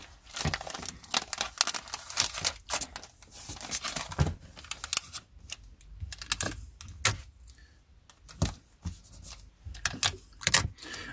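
A fresh roll of packing tape is pulled and pressed around bags of vintage paperback books, heard as close sharp tearing and crinkling bursts with irregular pauses between them, and no talking.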